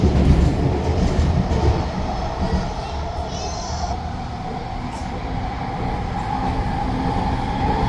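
A SkyTrain Mark II metro train rolls past with a loud, continuous rumble and rail hum that swells at first, then settles into a steady drone with faint squeals.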